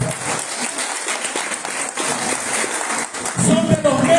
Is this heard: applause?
yes